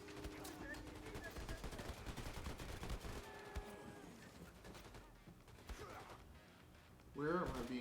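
Dense rapid gunfire from the video game Wolfenstein II: The New Colossus crackles through the first few seconds in quick bursts, then thins out as game sounds and speech take over.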